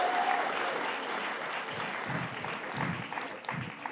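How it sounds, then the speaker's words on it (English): A crowd at an alternative Eurovision benefit night in Dublin applauds as a singer is welcomed on stage, steady dense clapping that carries on throughout with a few louder bursts. "You can give him another round of applause"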